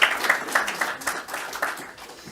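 Audience applause at a corporate talk in Santarém, a short, moderately loud patter of clapping hands that thins slightly toward the end.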